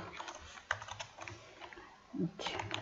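Quiet, irregular typing on a computer keyboard while writing VBA code, a close run of light keystrokes with a brief pause before a few more taps.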